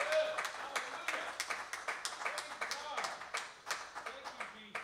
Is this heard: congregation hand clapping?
yes